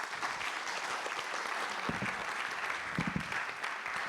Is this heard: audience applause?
yes